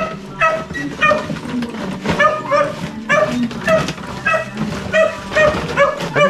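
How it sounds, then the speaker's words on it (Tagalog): A hungry dog whimpers and gives repeated yips and barks in a steady rhythm, fairly loud and close, with the whines pulsing through the whole stretch and no clear talk. "Yung aso gutom na dito."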